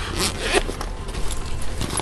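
Zipper being pulled open on a pocket of a tactical concealed-carry shoulder bag, a close raspy rip of about two seconds with a few uneven bursts, no talk over it.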